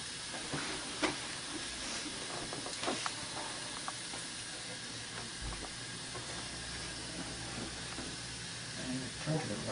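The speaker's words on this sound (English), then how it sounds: "I'll rinse this off again" A water spray rinses a dental appliance at a dental clinic, a soft continuous hiss with faint splashy ticks, quiet and steady throughout.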